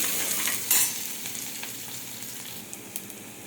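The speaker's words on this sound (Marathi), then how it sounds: "कांदे लाल होऊ द्यायचे" Onions for pav bhaji fry in a pan with a steady, close sizzle and a few brief scrapes and clinks from stirring; nobody speaks.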